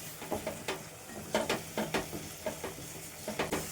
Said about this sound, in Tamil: தக்காளி வதங்கையும் இப்போ கொஞ்சமாக கல் உப்பு சேர்த்துக்கலாம் நல்லா சேர்த்து வதக்கி விட்ருலாம்